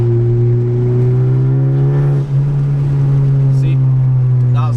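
A 2018 Honda Civic Si with a 1.5-litre turbo engine and PRL Cobra intake pulls hard, a loud, steady engine drone that climbs gradually in pitch, with a brief dip partway through and a faint chirp near the end.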